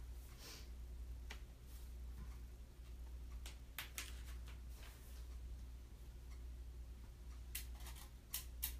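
Scissors snip through skirt fabric in a quiet room. Short, crisp cuts come irregularly over a steady low hum, with a few quick clusters of snips near the end.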